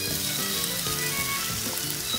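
Tomatoes go into a hot pan for mutton curry, setting off a loud, steady sizzle and frying crackle with some stirring, close and alone with no voices.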